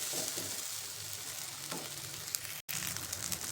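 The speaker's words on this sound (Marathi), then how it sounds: "हे वाटण छान 4-5 मिनिट आपल्याला मस्त लो फ्लेमवरती असं छान परतून घ्यायचं" Ground spice paste for a spicy kat amti sautéing in a pan on low flame, a steady gentle sizzle with faint stirring scrapes, close and continuous, no talking.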